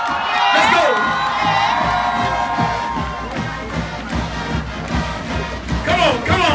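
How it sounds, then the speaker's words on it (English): A high school crowd at a marching band battle cheers and shouts continuously, loud and dense with whoops and children's voices, while an announcer's voice carries over the noise. "make some noise for your Blount High School Leopards"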